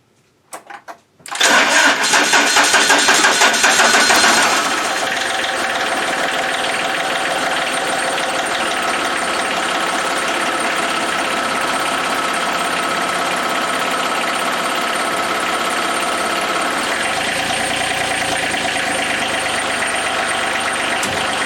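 A cold Massey Ferguson diesel tractor engine cranks in short bursts, catches with a loud rough clatter, then settles into a steady, close idle that runs on alone.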